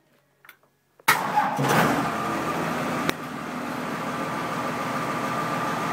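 A 1949 Ford fitted with a Cummins diesel engine starts after a few faint clicks, catching abruptly into a loud, close, rough diesel clatter that settles into a steady idle.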